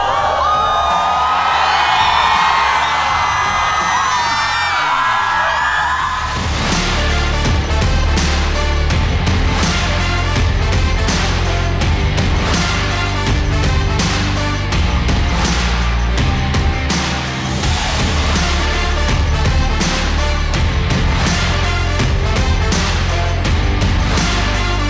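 A festival crowd at the Shillong Cherry Blossom Festival cheers, whoops and screams steadily for about twenty-five seconds, loud and dense, with a brief shift in tone after the first few seconds.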